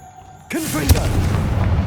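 The Confringo fire-blast spell in Hogwarts Legacy goes off after a moment of near silence: a sudden booming blast with a whooshing tail, loud and close, fading into a sustained rumble.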